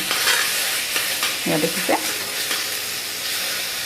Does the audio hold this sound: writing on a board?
no